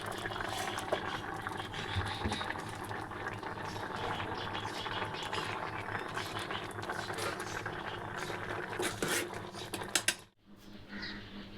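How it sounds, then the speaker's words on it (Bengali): Rice boiling over in a pot, its starchy foam bubbling and hissing in a dense, steady churn for several seconds before dropping away abruptly near the end. "ঢাকা দিতে পারছি না ঢাকা দিলেই মারগুলো উতলে পড়ে যাচ্ছে"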